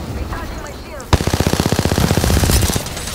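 Video game gunfire emptying a full magazine: after a quiet moment, a rapid automatic burst of evenly spaced shots runs loud and close to the end.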